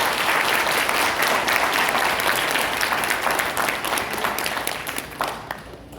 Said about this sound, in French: un applaudissement chaleureux.